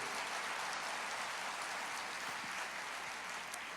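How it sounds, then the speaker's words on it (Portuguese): A church congregation applauds in a broad, even wash of many hands, heard from a distance at low level, with a steady rain-like texture and no voices. "Você pode aplaudir o Senhor?"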